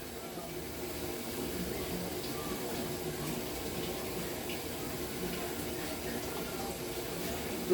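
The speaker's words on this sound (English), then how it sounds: "So you put them into boiling water." Water boiling in a pot, a dense steady bubbling and rushing that continues evenly throughout, fairly close, with no clear talk over it.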